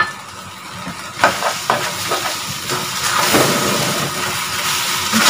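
Eggs dropped into a pan of frying tomato, giving a sizzling hiss with a few sharp crackles and stirring scrapes early on, then a steadier louder sizzle, close up and without talk.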